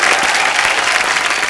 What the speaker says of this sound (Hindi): एक बार ऋषि सर और नीतू मैम के लिए जोरदार तालियां हो जाएं।